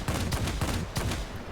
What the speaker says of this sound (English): Gotta start firing a little bit early with the 30mm cannons, and they still don't hit.